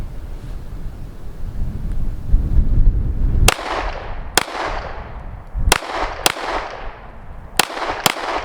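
Walther PDP .45 pistol fired in quick double taps outdoors on a cold, windy day: six loud, sharp reports in rough pairs, each ringing briefly, after a stretch of low wind rumble.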